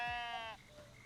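Sheep bleating in the cozy building game Tiny Glade, one drawn-out wavering bleat up close, lasting about half a second before fading into quiet ambience.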